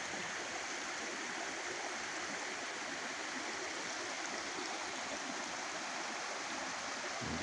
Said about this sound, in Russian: Два ручья стекаются